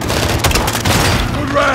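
A launcher round explodes in Call of Duty: Modern Warfare 2, a loud, dense boom mixed with rattling gunfire across a short burst of battle noise.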